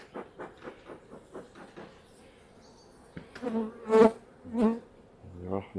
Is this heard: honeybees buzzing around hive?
yes